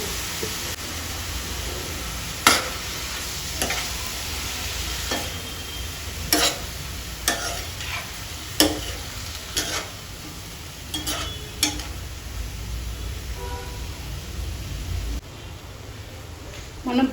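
Onions with a pinch of salt frying in a pan for an onion egg curry, giving a steady close sizzle broken by sharp scraping stirs of a spoon against the pan.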